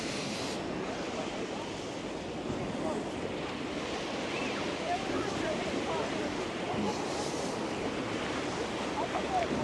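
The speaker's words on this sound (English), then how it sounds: "The sea appears to be coming in now." Steady surf rolls in on Blackpool beach, continuous rushing waves breaking nearby with wind buffeting the microphone throughout, no talk over it.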